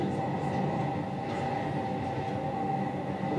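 A train rumbles across the Vashi bridge on Mumbai's harbour line, a steady rolling roar with faint rail clatter throughout, heard from a distance and with no talk.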